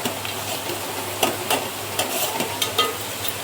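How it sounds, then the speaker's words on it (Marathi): Onion frying in a pan for a spicy village-style black crab curry, a steady close sizzle punctuated by repeated scraping stir strokes and light clinks of the spatula, with no voices. "बघा कांदा आता आपला चांगला फ्राय होतोय"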